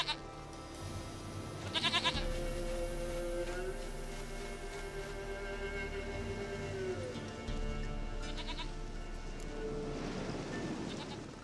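Goat bleats from The Witcher 3 video game rise out of a steady rain-like ambient wash, a few drawn-out wavering calls at moderate distance over continuous background noise.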